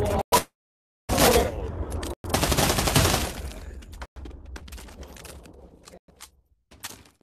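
Loud gunshots in a VR murder mystery video game: a sharp single shot, then sustained bursts of close, heavy firing, trailing off into scattered isolated cracks.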